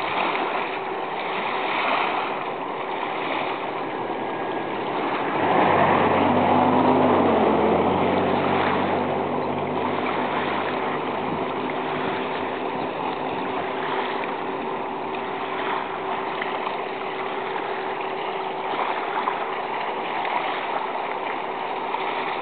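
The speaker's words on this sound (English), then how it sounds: "this is the music of the ocean." Ocean surf on a rocky shore at Sandy Beach in Fall River, a steady close wash of water with a swelling surge in the middle, unbroken by voices.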